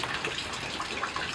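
Rain pattering down and water running into a rain barrel outdoors by bonsai benches, a steady broadband splashing wash with no pauses and no talk.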